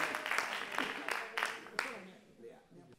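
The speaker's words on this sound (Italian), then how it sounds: "Facciamo un applauso al cane." Concert audience at a jazz club applauding, a burst of dense clapping that swells and then thins out and fades, leaving scattered claps with voices underneath.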